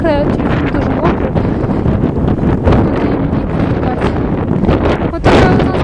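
Strong wind buffets the microphone in a stormy outdoor spell of rain cloud, wind and snow, a loud continuous roar with gusts swelling and a sharp burst near the end.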